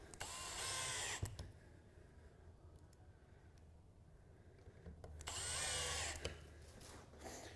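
A power drill drives the bigger supplied screws into a base cabinet during assembly, whirring loudly in two bursts at the start and near the end with a quieter pause between them.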